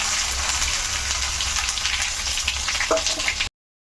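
Dried red chillies, cumin, mustard seeds and asafoetida crackle and sizzle loudly in hot oil, a dense continuous frying hiss with a few pops, cutting off abruptly near the end.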